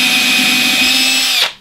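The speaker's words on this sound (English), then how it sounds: "drill pilot holes" A power drill bores a pilot hole into plywood: a short, loud, steady high whine that holds for about a second and a half, then quickly winds down to silence.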